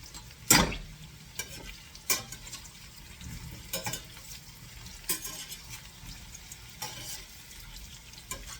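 Quince pieces cook in a pan on their way to golden and soft, a faint low sizzle punctuated by irregular sharp scrapes and knocks of a utensil against the pan.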